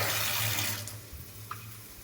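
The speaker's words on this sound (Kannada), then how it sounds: "ಹಿಂಗೆ ಹಾಕ್ಕೊಂಬಿಟ್ಟು ಸ್ವಲ್ಪ ನೀರು ತಗೊಂಡು" Water runs from a tap or is poured into a cooking pan in a home kitchen, a steady splashing wash that fades after the first second, followed by a faint clink.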